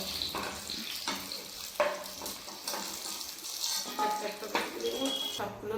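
Food with palmyra palm fruit sizzling and frying in a pan with scraping stirs and light clinks of utensils, while a person talks over it.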